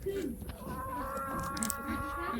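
Village chickens gathering to eat fried quail meat, soft clucks and low murmuring calls close by over a quiet rural background.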